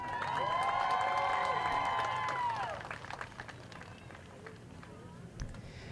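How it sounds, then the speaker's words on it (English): Applause from stadium crowd at a high school senior night football game honoring breast cancer survivors, swelling briefly then fading to scattered claps and distant voices. "Let's give a round of applause for Jasmine Smith."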